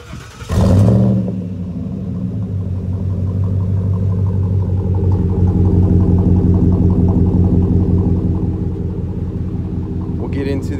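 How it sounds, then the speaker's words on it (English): Supercharged Roush Ford Raptor pickup remote started: a brief loud crank and catch, then a steady deep idle rumble that holds close and even throughout. "let you guys hear as well, is the beautiful sound of this Raptor"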